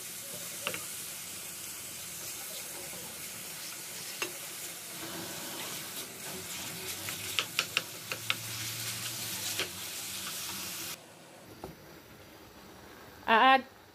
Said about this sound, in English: put my onion in it and fry it for a while to get it a little bit soft, and then I put my minced beef in it. Just keep stirring it